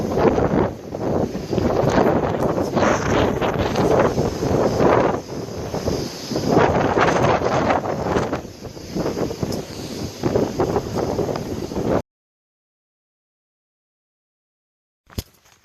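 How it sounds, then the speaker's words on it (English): Steady, loud wind buffets the microphone on a mountain ridge along the Appalachian Trail, gusting for about twelve seconds before cutting to near silence with one brief knock at the end. "Still windy."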